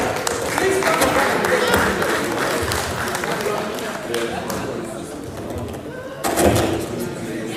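A congregation claps during a service at an Igbo Nigerian Catholic church, dense applause under a murmur of crowd voices, fading slightly before swelling again near the end.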